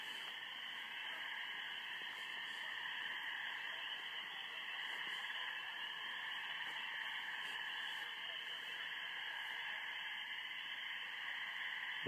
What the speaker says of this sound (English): actually the whole thing here is the frogs, of course